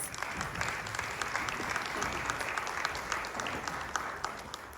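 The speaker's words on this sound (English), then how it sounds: "we'll give them one more round of applause" Audience applause at a community gathering, a dense, steady patter of many hands clapping, fairly close and sustained without a break, with no speech over it.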